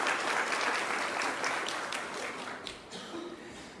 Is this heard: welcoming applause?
yes